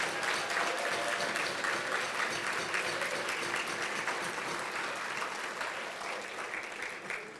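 Sustained applause from an audience at a school academic excellence banquet, clapping for the students' parents; dense, steady and continuous throughout, easing slightly toward the end.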